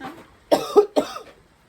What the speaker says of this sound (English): Oh, I have mom's cough. It's awful.